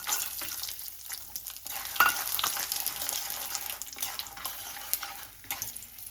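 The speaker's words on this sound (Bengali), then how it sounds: "বাদামটাও আমি একটু সুন্দর করে ভেজে নিচ্ছি।" Peanuts sizzle and rattle in a hot pan while a spatula stirs and scrapes repeatedly, close and fairly loud, with no voices.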